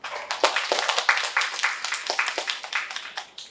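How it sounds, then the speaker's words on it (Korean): An audience at a lecture event in Korea applauds with dense, steady clapping from many hands, fairly close, for a few seconds. "다 같이 박수 한번 부탁드립니다"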